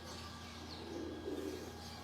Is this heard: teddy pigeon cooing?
yes